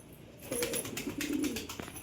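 Pigeons kept at home coo in soft, rolling phrases that begin about halfway in and carry on close by over a quiet background.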